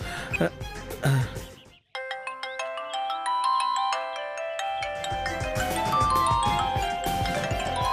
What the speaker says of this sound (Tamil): அந்த அழகர் பையன் ஃபோன் பண்றாமா?